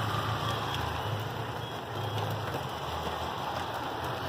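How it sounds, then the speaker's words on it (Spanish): A steady downpour falls in Siloé, Cali, Colombia, a dense even hiss of rain hitting surfaces with faint traffic rumble underneath and no talk. "sigue lloviendo acá en la variedad de Siloé"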